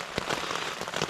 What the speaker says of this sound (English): this rain is quite loud now as well